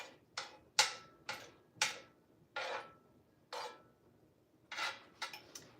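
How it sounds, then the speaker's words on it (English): Sourdough English muffins set one by one into a cast iron pan, about nine crisp, close taps and knocks at uneven intervals in a quiet room. "And these are going to go into the pan."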